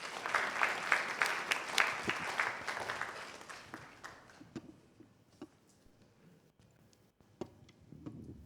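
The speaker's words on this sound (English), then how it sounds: "Please welcome him with a round of applause." An audience at an engineering association event gives a round of applause: dense clapping for about four seconds, then thinning into scattered individual claps that fade away.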